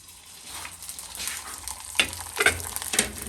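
Rice fulwadiyan sizzle and crackle in hot oil, a steady bubbling fry with sharper pops and stirring scrapes breaking through now and then.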